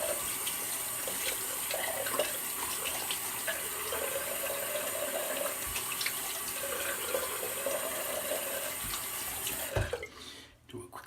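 Tap water runs steadily into a sink for a rinse during a Swedish shave, a continuous close splashing hiss that stops abruptly near the end.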